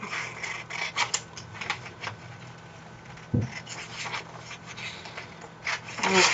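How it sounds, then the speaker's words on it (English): Scissors trimming along a line of a paper sewing pattern, a series of close, dry crisp snips and rustles in an uneven rhythm, with one soft thump partway through and no talking. "I am going to cut along this top line here because it's the same for all sizes"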